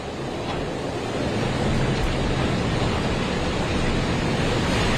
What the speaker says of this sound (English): and of course this wind. I mean, listen to that howling here behind me.